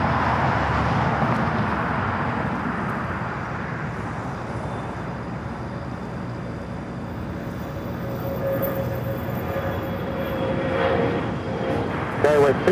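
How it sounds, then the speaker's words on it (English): A United Express CRJ 200LR jet takes off at LAX with a steady, fairly distant engine roar that builds slightly toward the end, with people talking over it. "There's the flight taking off to Prescott. CRJ 200LR with United Express 5066."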